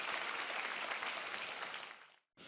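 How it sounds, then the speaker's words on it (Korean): A church congregation applauds steadily at a Sunday service, dense clapping that fades out, then a brief silence before sound resumes. "우리 하나님께 감사와 영광의 박수 올려드리겠습니다."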